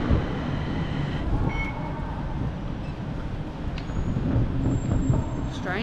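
A train rumbles in at a station in Bangkok, steady low roar with faint squeals, mixed with crowd chatter and passing vehicle noise.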